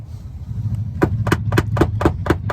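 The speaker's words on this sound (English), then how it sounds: "So you don't have to hear me just beating on this car." Hammer blows on a creased fender of a Nissan Altima, about eight sharp metallic strikes in a steady rhythm after a quiet start, ringing out close and loud over a low background hum.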